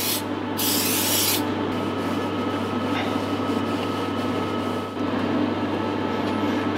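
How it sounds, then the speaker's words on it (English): A sharp aerosol spray of brake cleaner hisses in a short burst near the start, over a steady mechanical hum that continues throughout, during a clutch assembly on a Subaru Forester. "I'm gonna give it a spray with some brake cleaner just to get any"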